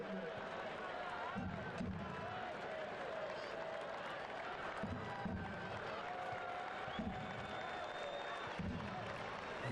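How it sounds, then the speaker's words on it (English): Stadium crowd applauding steadily as a substituted Richmond Kickers player walks off the pitch during a soccer match against Charlotte Independence; broad sustained clapping with a commentator talking over it. "The applause for Terzaghi"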